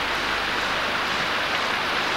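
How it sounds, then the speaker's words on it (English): Heavy rain pours down during a flood at Denford, near a pub, in a steady, dense roar, close and constant with no breaks. "it's raining too hard."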